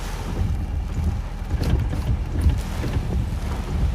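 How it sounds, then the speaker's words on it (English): Strong wind from a tornado-warned storm in Kentucky roars in a constant heavy low rumble buffeting the microphone, loud and unbroken throughout, with no talk. "I can hear the wind in front of us as we're facing west, and it sounds very loud"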